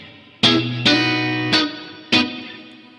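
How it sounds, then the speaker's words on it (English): An electric guitar plays four ringing chords through a Line 6 Helix LT amp modeler using a legacy spring reverb effect, each strum sharp and loud with a decaying tail that lingers into the next. "I'm actually going to pick this spring reverb here."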